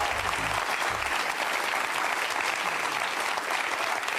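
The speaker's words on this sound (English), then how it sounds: "Hold your applause just for a moment" A studio audience at a televised debate between Richard Dawkins and Cardinal George Pell applauds steadily, dense even clapping filling the whole stretch, loud and close.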